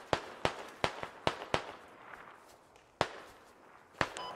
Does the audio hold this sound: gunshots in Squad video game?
yes